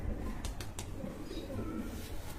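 Pigeons in a loft coo softly and repeatedly, low throaty calls close by, with a few sharp rustles or wing flicks early on and no talking.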